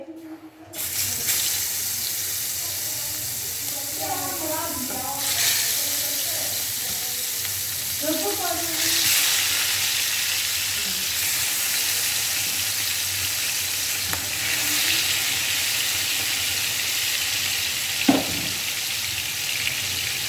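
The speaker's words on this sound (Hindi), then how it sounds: "कुकिंग ऑयल हमारा गर्म हो चुका है। अब हम मछली इसमें फ्राई करेंगे।" Masala-coated fish fries in hot cooking oil, a continuous close hiss and crackle with a few brief clatters as pieces go into the pan.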